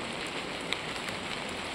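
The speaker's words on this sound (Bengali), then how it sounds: "সেই রকম বৃষ্টি হচ্ছে।" Heavy rain falls on a mountain road to Hemkund Sahib in Uttarakhand, a soft, steady wash of patter heard from a distance.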